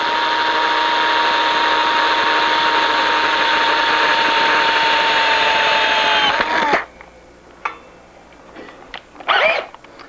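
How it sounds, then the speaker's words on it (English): A power drill with a very short bit bores into a bicycle frame lug in one loud, steady whine for about six seconds, then stops abruptly, followed by a few brief clicks and bursts of handling noise. "here's where that really short drill comes in handy"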